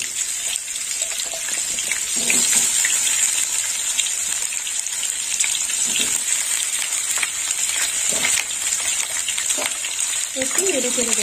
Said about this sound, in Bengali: কাঁকরোলগুলো একটু হালকা লাল করে ভেজে নেবো